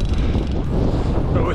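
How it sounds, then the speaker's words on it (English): Strong wind blasts into the microphone during a road bike ride from Sydney to Wollongong, a loud, continuous low roar and buffeting with a rider speaking under it. "As you can hear, it's very, very windy today as well,"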